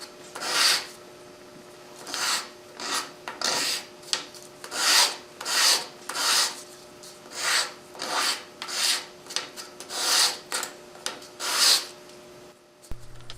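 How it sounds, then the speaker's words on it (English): A wooden bowl's segmented base-ring pieces are sanded by hand with backward strokes, making a close, regular rasping rhythm of about a dozen and a half strokes with no talk. "So I use just by sanding backwards like this."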